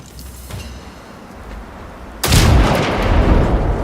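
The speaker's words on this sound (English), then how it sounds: "Exploding barrels." Explosions from barrels blowing up in the video game Generation Zero, a quiet rumbling stretch followed by a sudden loud blast whose broad roar lingers to the end.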